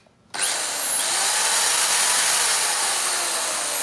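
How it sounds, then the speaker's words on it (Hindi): An electric drill machine, a household power tool, whirs up abruptly and runs as a loud, steady whine for several seconds, heard on its own without any voices. "एक जो है वो ड्रिल मशीन होना चाहिए।"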